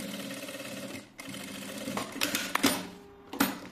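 Sewing machine stitching down a small pocket on a children's garment, a steady mechanical whir with short bursts and pauses, close and moderately loud, no talking.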